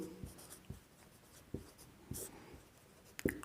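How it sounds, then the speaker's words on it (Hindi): Chalk or marker strokes on a classroom board during a chemistry lesson: faint, short scratchy taps and swipes at an uneven pace, with quiet room noise between them. "तो अब देखिए ये चीज लिख लेते हैं"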